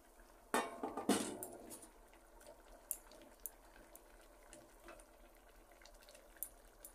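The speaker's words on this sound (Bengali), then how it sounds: "এই দেখেন তরকারি উতলাচ্ছে, এখন ডিমগুলি ছেড়ে দেব" Eggs drop into a pot of boiling curry for egg chorchori. A few soft clatters and knocks come first, then a quiet simmering bubble underneath with scattered small taps.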